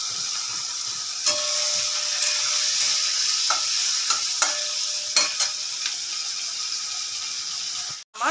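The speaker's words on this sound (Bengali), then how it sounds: "মাছটা আমার হালকা হালকা ভেজে নিতে হবে। দিয়ে দিলাম চেরা কাঁচা লঙ্কা" Prawns rubbed with salt and turmeric sizzle in hot oil in a pan with slit green chilies, a steady, loud frying hiss broken by sharp clinks and scrapes of stirring, with a brief break near the end.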